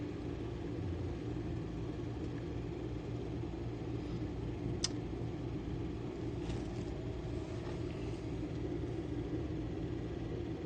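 A parked car's engine idles close by as a steady low rumble, constant and unbroken throughout, with a single faint click partway through and no talking.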